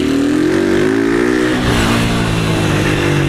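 A blue 2023 Honda Fan 160 motorcycle with no air filter and a tin exhaust revs loudly and up close in a favela, the engine pitch climbing, dipping and climbing again over a raspy, clattering exhaust.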